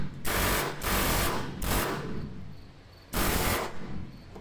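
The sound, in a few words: Harbor Freight air chisel removing a rivet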